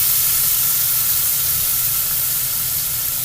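Sesame seed oil sizzles for a lo mein sauce, a steady, loud frying hiss running unbroken for a few seconds with no talk.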